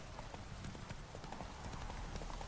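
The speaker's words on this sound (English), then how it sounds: "Why am I running? I have a horse." Horse hooves galloping in the Witcher 3 video game, a steady rapid clip-clop that runs the whole time at moderate level over faint game ambience.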